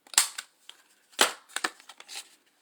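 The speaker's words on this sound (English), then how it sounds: "I'm just going to use my little corner rounder." A small handheld corner rounder punch clips the corners of scrapbook paper: a few sharp, close snaps spaced apart, with lighter handling clicks and rustles between them.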